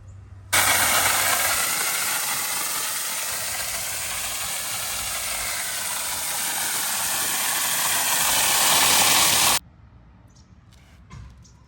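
A torch heats a copper joint between a tee and a hose bib for soldering, giving a steady, loud roaring hiss that starts abruptly, holds for about nine seconds and cuts off sharply into quiet.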